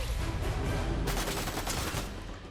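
A boss in Fortnite Chapter 5 Season 4 sprays loud, rapid gunfire, a dense close burst of shots with booming low-end, intensifying midway before tapering off.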